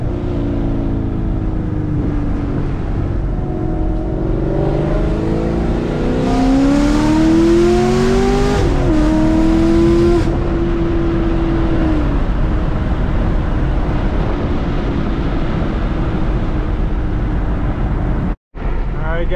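A Krypton green Chevrolet Camaro driving with constant road and wind noise, its engine note climbing audibly during a strong acceleration before settling back to a steady cruise; someone speaks briefly.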